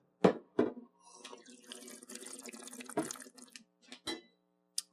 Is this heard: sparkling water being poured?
yes